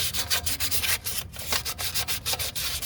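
Fine 1,000-grade sandpaper rubs across an aluminum throttle body gasket surface in quick back-and-forth strokes, a close, rhythmic scratchy rasp with no talk.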